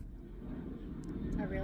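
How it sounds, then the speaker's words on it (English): A low-flying airplane passes overhead, a heavy steady rumble filling the whole stretch and swelling slightly toward the end, with faint voices underneath. "a really low airplane, and the dogs don't like it."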